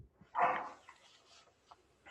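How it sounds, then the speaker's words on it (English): A single dog bark rings out near the start, followed by faint yips and whimpers from the pet in the background, with no one talking over it. "you can hear my dog in the background barking at me"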